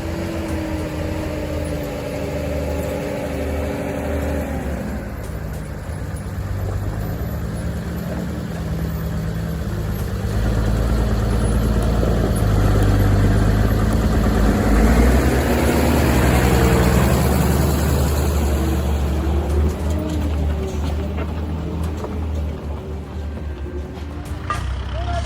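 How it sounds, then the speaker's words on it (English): A 4.5-ton timber loader's engine works hard while lifting a heavy log. A continuous loud mechanical drone swells and strains through the middle before settling back to a steady idle-like hum. "The loader is groaning under the strain."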